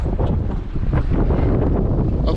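Strong wind buffets a fishing boat on rough, wave-tossed water, a loud, steady broadband roar with gusting microphone rumble filling the whole stretch and no voice over it.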